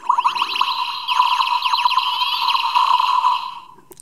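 Power Rangers Dino Charge Deluxe Dino Saber toy emits a bright, warbling electronic chirp, a rapid twirly sweep of tones that repeats for several seconds and then cuts off, heard close and alone.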